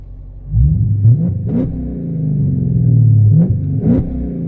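A widebody Dodge Challenger's V8 engine revs up in several sharp bursts, a deep throaty roar rising and falling close by, with no talking.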